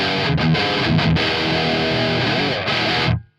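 A loud, heavily distorted electric guitar plays chugging chords through a Marshall DSL amplifier, thick and saturated, then cuts off abruptly at the end.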